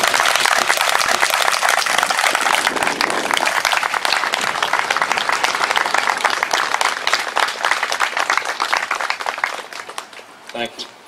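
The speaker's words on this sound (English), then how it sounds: "And I'd like for us to applaud these guys." Sustained audience applause for veterans at the Scott County Civil War memorial dedication, a steady dense wash of outdoor clapping that thins and fades near the end.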